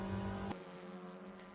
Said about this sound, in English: British touring cars, so we can hear them across the fields of Thruxton